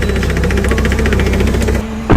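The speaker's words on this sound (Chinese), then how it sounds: "18到23款保时捷凯宴哦，油箱异响" A rapid, regular rattling knock comes from the fuel tank area beneath the floor of a Porsche Cayenne, a loud tractor-like clatter close by that stops abruptly near the end.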